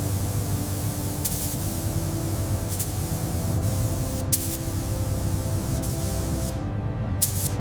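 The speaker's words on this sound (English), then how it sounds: "The key to a lasting finish is the careful application of the epoxy primer, ensuring an even coat over the cleaned metal." A spray gun coats a 1932 Packard Twelve car body with epoxy primer, producing a continuous dense hiss punctuated by short brighter bursts as the trigger pulses.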